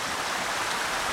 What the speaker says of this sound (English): Here a pretty little stream gurgles just loud enough to be heard